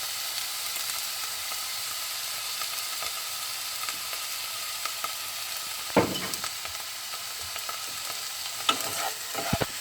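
Pineapple fried rice with thin soy sauce and oyster sauce sizzles steadily in a hot pan, a continuous hiss with a few clanks and scrapes of stirring, and no one talking.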